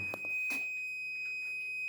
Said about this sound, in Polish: Otwieramy zbiornik. Za chwilę włączy się alarm.